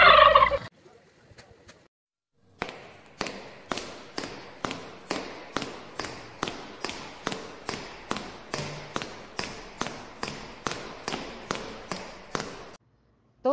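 Turkeys gobble over and over in a long, even series of about twenty close, sharp calls, evenly spaced and all at much the same loudness.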